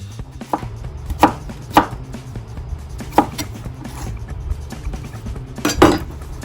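A kitchen knife slices vegetables into thin matchsticks on a cutting board for Japanese chilled noodles, with sharp chops and clinks at irregular intervals over a low background hum.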